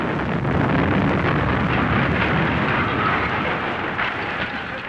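A bomb explosion on a street in Belfast: a loud, sustained roaring blast of broadband noise that swells and lingers for several seconds before slowly easing off, with no voices.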